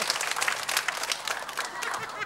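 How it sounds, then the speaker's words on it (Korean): Studio audience applause on a Korean TV variety show, a steady dense patter of clapping that runs the whole stretch at moderate volume with no break. "박수가 적어요?"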